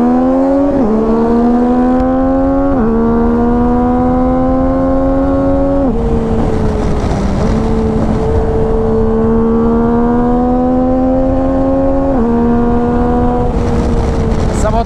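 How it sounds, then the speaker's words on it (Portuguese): A remapped 2023 Yamaha Tracer 900 GT motorcycle engine, loud and close, repeatedly climbs in pitch through several gear shifts, each rise dropping abruptly before building again. "Essa moto dá 180 muito rápido"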